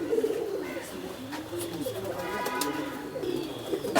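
A pigeon coos softly in a close, low murmuring call, with faint rustling and a few sharp clicks around it.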